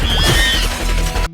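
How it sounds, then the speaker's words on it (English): A cartoon jar of Chemical X smashes in a loud, brief crash with a bright glassy ring and clattering debris, cutting off abruptly after about a second. "The professor smashed a jar of Chemical X."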